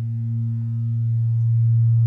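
A steady synthesized oscillator tone from an Empress Zoia modular synth pedal, with reverb and delay, holds one low pitch with stacked harmonics and swells slightly louder over two seconds, alone with no voices.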